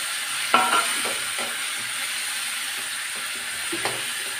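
Chopped tomatoes sizzle in a hot pan while being stirred for misal, with a sharp hiss when they hit the oil and intermittent scraping of the spoon over a steady frying crackle, close and moderately loud.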